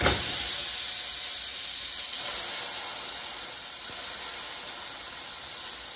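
Smash burger patty hitting a hot pan, a loud, bright, steady hissing sizzle that starts at once and holds evenly throughout, with no one talking.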